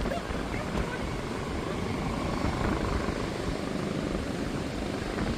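A helicopter on a morning in Lakshadweep's capital gives a loud, steady, broadband rotor and engine roar that holds at an even level for the whole stretch, with no voices on top.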